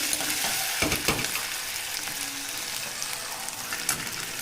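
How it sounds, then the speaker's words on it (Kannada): Potatoes tipped into hot oil in a pan sizzle and hiss steadily, with a few sharp clanks and scrapes of a spoon stirring, heard close up and without talk. "ಸೊ ನೆಕ್ಸ್ಟ್ ನಾನು ಆಲೂಗಡ್ಡೆ ಹಾಕತ್ತೀನಿ"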